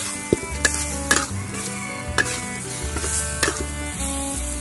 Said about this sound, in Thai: ผัดทุกอย่างให้เข้ากันอีกที